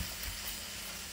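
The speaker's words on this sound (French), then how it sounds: "je vais rajouter des oignons" Onions sizzle in a hot pan, a dense, even hiss of frying that holds steady and close throughout the short moment.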